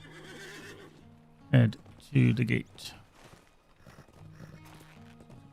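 A horse in the video game LOTRO whinnies loudly twice in quick succession, with soft hoof clops and footsteps around it, while someone talks over the quieter stretches before and after.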